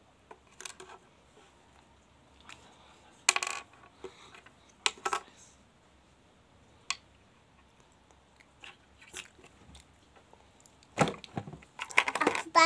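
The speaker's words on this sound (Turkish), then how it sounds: "Havuçları kesiyor musun?" A knife chops carrots for carrot soup, producing irregular crisp cuts and crunchy thuds on a board, some isolated and some in quick clusters, in a quiet room.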